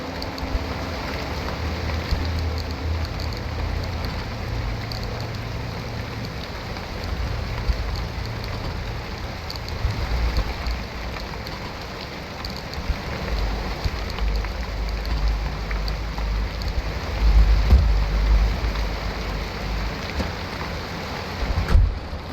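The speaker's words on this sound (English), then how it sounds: "that rain is extremely loud for me" Steady, heavy rain pours throughout in the video game Pacific Drive, a dense wash of noise with low rumbling underneath, loud and close, with no voices.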